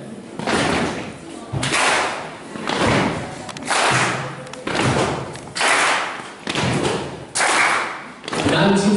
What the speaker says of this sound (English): So when I go down, it's going to be a stomp.